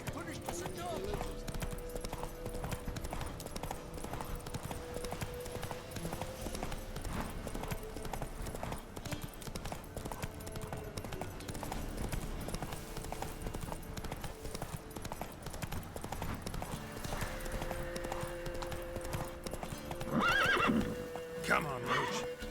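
Horse galloping in The Witcher 3: steady clip-clop hoofbeats run throughout, with a loud whinny near the end, under game music and overlapping voices.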